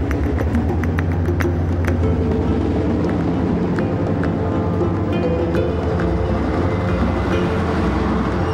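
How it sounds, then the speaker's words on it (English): A diesel locomotive runs at full speed on the South Orient Express route through Mexico toward Chihuahua, giving a loud, steady rumble with rhythmic clickety-clack of wheels over rail joints throughout. "The diesel locomotive goes full speed ahead as we head for Chihuahua."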